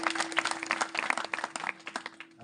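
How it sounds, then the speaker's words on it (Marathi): An audience claps in welcome during a kirtan, steady and dense for the whole stretch over a faint sustained tone. "टाळी वाजून एकदा स्वागत"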